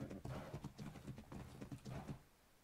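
Horse hooves in ARK clopping in a quick, continuous rhythm, fairly close and steady, with no one talking over them.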